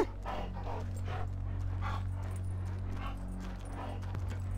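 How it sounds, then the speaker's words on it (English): Chop the Rottweiler from GTA V sniffing and panting in repeated short bursts over a steady low game hum and distant clopping, with no talk. "You got a whiff of him, Chop"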